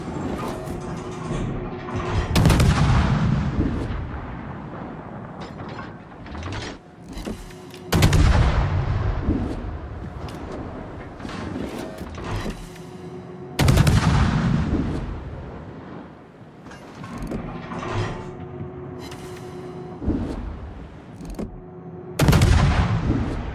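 Naval artillery from a Harbin-class ship in World of Warships booms in heavy, loud salvos about every six seconds, each blast followed by a rumbling decay, with no talking.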